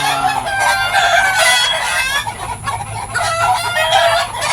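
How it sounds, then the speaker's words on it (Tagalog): Several roosters, ten months old and younger, crow and cluck close by, calls overlapping continuously in a noisy farmyard with a steady low hum underneath. "Yung mga tandang natin dyan."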